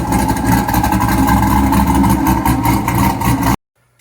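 A 1999 Chevrolet Corvette C5 with forced induction and nitrous idles loudly and close by, a steady deep rumble with slight pulsing, cutting off abruptly near the end.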